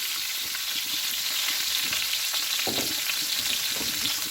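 Bell peppers sizzle in hot oil in a pan for paella, a steady close crackle with occasional stirring scrapes.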